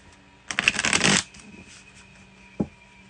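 A deck of cards is riffled once in a quick, crisp burst lasting under a second, followed by a soft tap as the cards settle.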